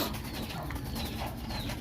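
Domestic pet pigeon cooing softly and repeatedly, close by, in low throaty rolling pulses over a steady background hiss.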